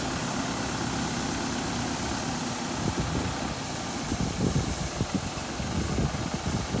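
A tractor's heavy engine idles steadily close by, a low continuous rumble with some rougher pulsing toward the end.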